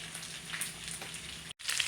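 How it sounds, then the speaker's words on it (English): Steady crackling sizzle of chicken wings frying in hot oil, continuous and close, with a brief cut near the end before the hiss resumes. "Chicken wings are frying I like them good and crispy myself."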